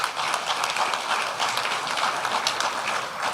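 An audience gives a sustained round of applause at a live South African event, a dense, even roar of many hands clapping at once. It stays steady and loud from start to finish with no talk above it.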